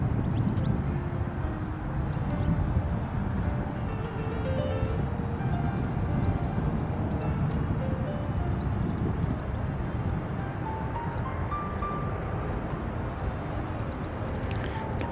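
An aircraft inbound from Hokitika approaches Christchurch airport after dark, a faint, steady distant engine drone mixed with broadband outdoor rumble throughout.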